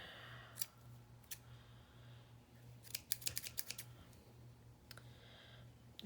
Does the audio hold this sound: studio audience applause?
no